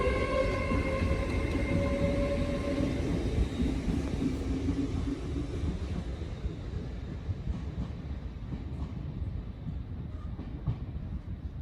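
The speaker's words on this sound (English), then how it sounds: "Departing out now is the 1356 Great Western Railway service from Swansea to London" A Great Western Railway service from Swansea to London Paddington pulls out of Bristol Parkway station, its engine droning and rails rumbling with clickety-clack, loud at first and then fading steadily into the distance.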